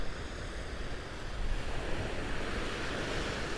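Small, calm ocean waves wash onto a Florida beach on a winter day in a steady, broad rushing wash, loud and close, mixed with wind buffeting the microphone and no voices.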